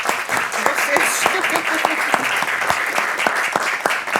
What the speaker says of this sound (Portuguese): Uma salva de palmas para a nossa colega